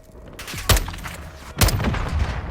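Gunfire in Call of Duty: Modern Warfare 2: two loud, sharp shots about a second apart, each with a booming low tail, over a steady rumbling battle ambience, with no voices.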